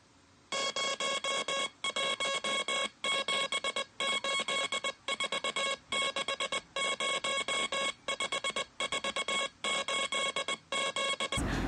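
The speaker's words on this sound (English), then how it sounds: "when the beeping started, I slowed it down" Slowed-down electronic beeping from a phone-number puzzle, a steady run of tonal beeps in short bursts separated by brief gaps, close and clear with no talk, ending abruptly.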